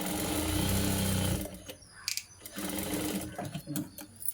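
A sewing machine runs a steady, close whirring burst while stitching a double seam on a shoulder joint of a garment, then stops abruptly, leaving quieter handling noises and scattered clicks.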